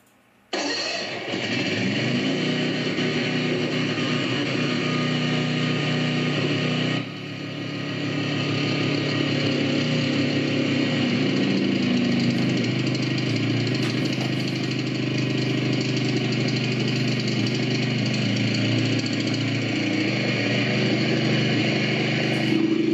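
An engine set up to run on HHO and natural gas cranks and catches, then settles into a steady, loud, slightly knocking idle that rises briefly partway through, close by with no talking.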